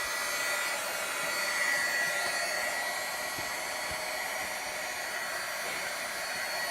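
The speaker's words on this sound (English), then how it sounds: "You do need to give the heat gun a good 30-45 seconds to heat up" Heat gun warming up to melt embossing powder, a steady, dense blowing roar with a hissing fan tone, constant and close throughout.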